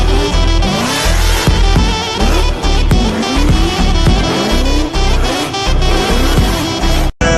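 A car driven at full speed and thrown into a handbrake drift, its engine howling through repeated rising revs with bursts of tire squeal, loud and dense throughout, with a brief cut near the end.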